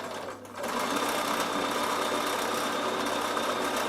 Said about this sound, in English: I'm top stitching this seam down, okay, with my lovely variegated thread